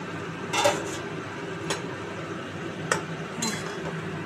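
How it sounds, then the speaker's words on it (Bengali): A metal lid is lifted off a pot of potato and pointed gourd simmering on the stove, giving a few sharp clinks and scrapes at spaced intervals over a low, steady kitchen background. "5-6 মিনিট পর ঢাকাটা খুলে দেখছি।"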